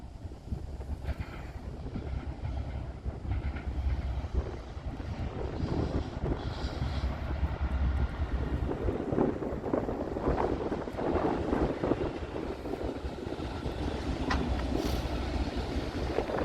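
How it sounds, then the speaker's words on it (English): A Norfolk Southern or CSX freight train with two locomotives passes, a long, steady rumble and rolling clatter of wagons, heard at moderate distance with wind buffeting the microphone. "he's got two locos on here this time"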